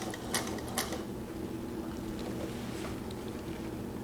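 A Juki 1541 industrial sewing machine runs during test sewing after a hook timing repair, giving a steady, low mechanical hum with a few brief clicks near the start.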